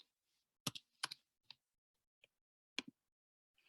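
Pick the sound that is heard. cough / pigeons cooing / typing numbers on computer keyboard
typing numbers on computer keyboard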